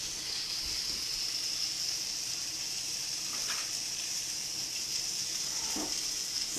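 Vegetables sauté in margarine in a pan, giving a faint, steady sizzling hiss with a few soft stirring clicks and no speech.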